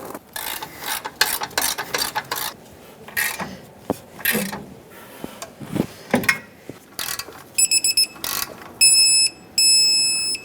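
A torque wrench ratchets in quick bursts of clicks while tightening an air bag spring bolt on a 1999-2007 Ford F-350. A few short electronic beeps follow near the end, close and clear, with no talk.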